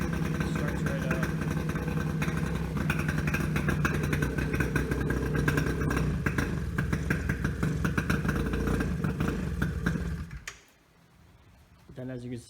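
A 2001 Polaris Scrambler 50 ATV engine idles loudly inside a garage, a steady rattling putter that runs on and then cuts out suddenly, leaving near silence before a faint clatter.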